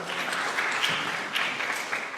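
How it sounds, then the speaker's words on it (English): Audience applause at the closing of a housing and urban development conference, a steady wash of clapping from a crowd that holds at an even level for about two seconds. "Give them a round of applause as well."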